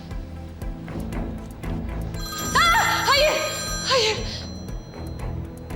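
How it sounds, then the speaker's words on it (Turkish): A telephone rings in an office, its trilling electronic tone rising partway through and sounding in repeated bursts over a background of talk and movement. "Telefonunuz çalıyor Bora Bey açın."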